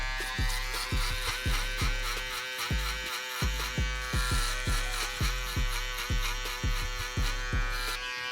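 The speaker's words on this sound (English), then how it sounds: "I'm gonna use my electric shaver." During a barbershop fade haircut, an electric shaver buzzes steadily and close up. Repeated rhythmic pulses come through as it passes over the head again and again, and no one speaks.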